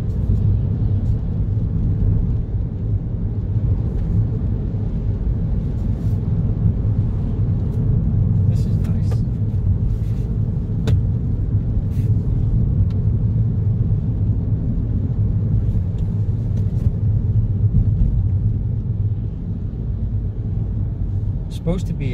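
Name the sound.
Peugeot 208 PureTech car driving on road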